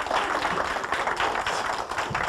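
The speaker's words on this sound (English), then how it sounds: "Get a round of applause here on Sunday morning." A Sunday morning audience gives a round of applause, dense steady clapping from many hands filling the room, close and continuous with no talking over it.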